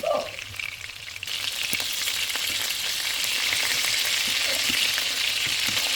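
Chicken wings fry in a pan with a dense, steady sizzle and crackle throughout, close and loud, with a few faint clinks of stirring or flipping.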